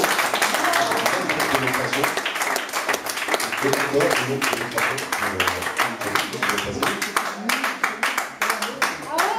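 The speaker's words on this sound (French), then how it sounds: "On peut les applaudir vraiment très très fort" Audience applause with steady clapping across the whole stretch, loud and dense, with a voice talking over it.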